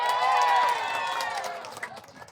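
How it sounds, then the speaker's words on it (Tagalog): A rally crowd in Antipolo shouts and claps in answer to a call, a broad wash of cheering that starts loud and slowly fades, with a strong voice ringing over the top. "Sumigaw nga, pumalakpak ka!"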